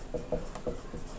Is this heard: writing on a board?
yes